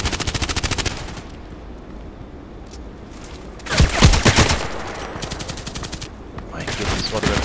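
KelTec RFB carbine fire in the shooter game Contract Wars: a quick, sharp string of automatic shots opens, then after a lull come louder, heavier volleys with booming impacts and further scattered bursts.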